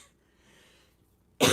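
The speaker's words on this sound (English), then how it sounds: "I'm going to cough again" A single sharp cough bursts in near and loud at the very end, after a stretch of near silence.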